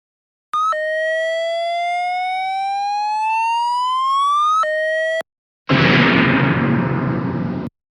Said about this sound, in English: There, I am going to pull the fire alarm